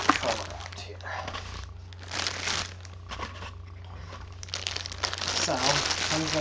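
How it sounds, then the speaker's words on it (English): A small plastic bag crinkling and rustling up close as a game controller is unboxed, in repeated bursts of crackly handling, with a voice talking in between. "comes in a little plastic bag. Get that plastic bag out."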